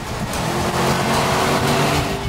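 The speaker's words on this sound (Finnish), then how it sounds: "Tää on niinku vanha V8." A Lexus RC F with a V8 engine runs with a steady, dense engine roar and road noise, loud and continuous with no talk.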